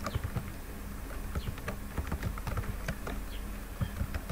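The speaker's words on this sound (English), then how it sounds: "And I type" Typing on a computer keyboard, a close, fast, steady run of light key clicks continuing throughout without any voice.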